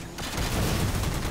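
Gunfire in Halo 4 multiplayer capture-the-flag play, a dense continuous burst of shots and low booms filling the whole moment after a brief quiet start, loud and close with no talk.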